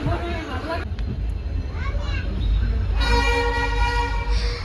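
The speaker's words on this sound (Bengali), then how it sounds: "ট্রেন ছেড়ে দিল" Passenger train pulling away from a station, with a rumbling rail-car drone, a long train horn sounding near the end, and nearby voices throughout.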